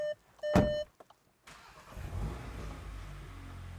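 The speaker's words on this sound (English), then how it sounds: "starting the car after you flash it" A tuned Volkswagen Golf R MK8 with freshly flashed engine software: a short electronic chime sounds, then after a brief pause the engine cranks, catches and settles into a loud, close, rumbling idle with a slight rev.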